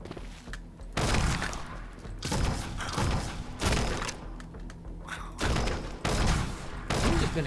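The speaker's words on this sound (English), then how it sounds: "Get away from me with your bullets and things." Rapid bursts of gunfire in the action game Collapsed, with dense volleys and heavy thuds separated by brief lulls, loud and close throughout.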